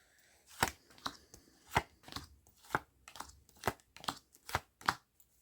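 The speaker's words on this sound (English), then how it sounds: "I knock the camera because I'm a bit too aggressive with my shuffle" Tarot cards being shuffled aggressively in a steady rhythm, about a dozen crisp riffling snaps close to the microphone, with no talking.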